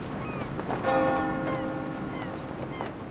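One church bell rings from a bell tower in Dunkirk. A clear struck tone swells and slowly decays over a soft outdoor background.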